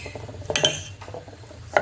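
A spoon clinks and scrapes against a bowl a few times while whole moong chilla batter with turmeric, cumin and salt is stirred, close up and fairly quiet, with no talking.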